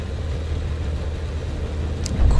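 A tank engine in the video game Sprocket runs with a steady, heavy low rumble throughout, holding an even loudness with a slight swell at the very end.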